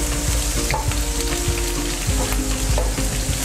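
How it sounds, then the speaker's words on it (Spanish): Sliced onion sizzles steadily in oil in a frying pan, a continuous close crackle with occasional soft utensil taps, no talking. "Un poquito de aceite al sartén para que se citrone la cebolla."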